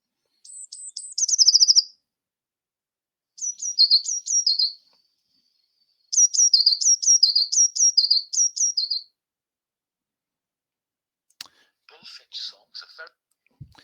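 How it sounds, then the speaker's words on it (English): Blue tit singing in three separate high, thin bursts of rapid repeated notes with pauses between, the middle and last phrases quick see-sa trills, followed by a few faint scattered chirps and soft rustles. "This should be the sound of a blue tit."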